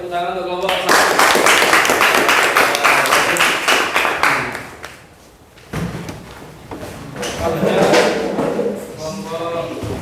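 Applause for a presenting group of students in a school classroom, a dense burst of clapping that fills most of the ten seconds, dips briefly midway, then picks up again with voices talking over it.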